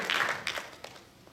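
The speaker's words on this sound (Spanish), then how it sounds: "Feliz aplauso para los que están aquí, que nos están visitando en la casa del Señor." A church congregation gives brief applause for visitors at a Spanish-language service, a short, faint burst of scattered clapping that fades within about a second.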